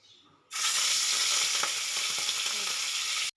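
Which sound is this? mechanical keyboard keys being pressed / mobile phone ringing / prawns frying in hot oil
prawns frying in hot oil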